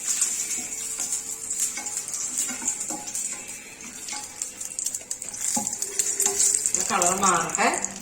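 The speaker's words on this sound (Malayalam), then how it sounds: "ഇതാ വറ്റൽമുളക് എരിവിനനുസരിച്ചിട്ട് കേട്ടോ ഇതൊന്ന് ഫ്രൈ ചെയ്തെടുക്കണം" Dried red chillies fry in a pan for a Sri Lankan coconut sambal, giving a continuous crackling sizzle with stirring scrapes and light utensil clinks against the pan, loudest near the end.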